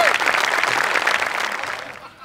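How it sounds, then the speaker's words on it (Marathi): Audience applause at an award presentation on a Marathi comedy stage show, dense continuous clapping from a crowd that holds steady for about two seconds then fades, with voices mixed in. "जोरदार टाळ्या."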